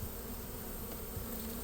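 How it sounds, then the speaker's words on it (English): Bees from a swarm streaming into a swarm trap, a dense, steady buzzing hum close by that fills the whole moment without pause. "you can see bees are going in here, so that makes me hopeful that the queen is in here"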